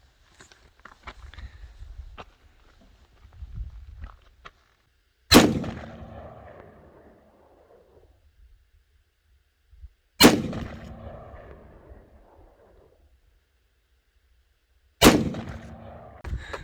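Three loud, sharp 9mm pistol shots at an outdoor shooting range aimed at a silhouette target 15 meters away, spaced about five seconds apart, each followed by a ringing decay, with faint handling sounds before the first.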